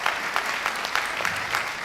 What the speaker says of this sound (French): qu'on applaudit leur entrée